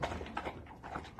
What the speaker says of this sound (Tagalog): Ganyan po kumain si King.